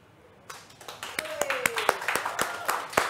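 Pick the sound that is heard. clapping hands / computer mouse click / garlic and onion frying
clapping hands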